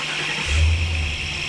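A FlipSky 8085 electric motor runs on a stand with a steady, loud whir and a low hum that swells briefly, heard alone without any talk.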